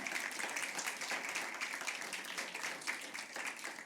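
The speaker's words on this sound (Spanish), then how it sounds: "¿cuántos pueden aplaudir?" Congregation clapping during a Spanish-language church sermon, a quiet, steady patter of many hands heard from a distance for a few seconds.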